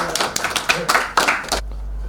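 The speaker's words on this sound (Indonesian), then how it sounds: "Tepuk tangan buat kelompok" A few people clap briefly for the first group at a broadcasting and film class presentation, sparse uneven claps that stop abruptly, leaving a low hum.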